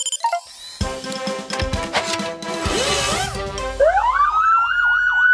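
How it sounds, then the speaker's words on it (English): A loud wailing siren rises and falls in a steady cycle, preceded by clanks and toy-like mechanical sounds. "Now that's a loud nee-naw."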